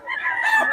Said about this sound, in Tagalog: maraming manok to si Boss Ken, mga idol